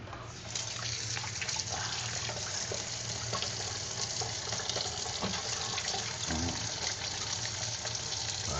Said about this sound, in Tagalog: Maghuhugas muna tayo ng kamay.